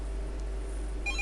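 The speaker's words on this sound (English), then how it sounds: "sorry about the phone there" An electronic telephone sounds near the end with a short burst of steady beeping tones, after a stretch of quiet room hum, with no talking.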